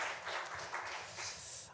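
Applause from a church congregation during a Korean Sunday worship service, a steady wash of clapping that holds through the short moment without talk.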